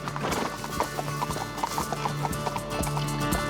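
Irregular clip-clop of hardy outdoor-wintering horses' hooves moving about nearby, with several animals shuffling and stepping at a loose, uneven rhythm.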